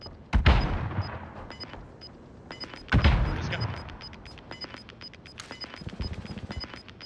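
Gunfire in the Warzone battle royale game: two sharp loud shots with a decaying rumble, then scattered lighter pops and clicks over a faint steady tone.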